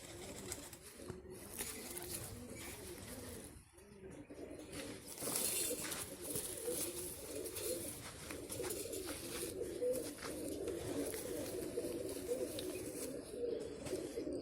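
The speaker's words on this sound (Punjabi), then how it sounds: "ਇਹ ਪਸ਼ਾਕ ਕਬੂਤਰ ਆ" Pigeons coo in low, repeated murmurs, with occasional fluttering and rustling around them.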